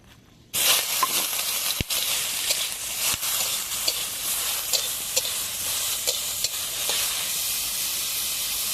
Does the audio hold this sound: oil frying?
yes